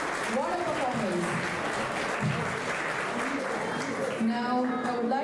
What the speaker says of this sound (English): Ladies and gentlemen, one more time, a huge round of applause